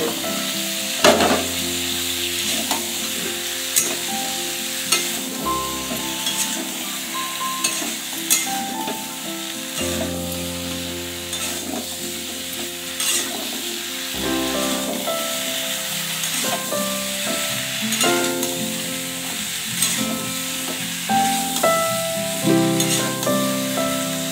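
Taro pieces (kochur mukhi) frying with shrimp in spiced oil, a loud continuous close sizzle with repeated stirring scrapes and clatter throughout.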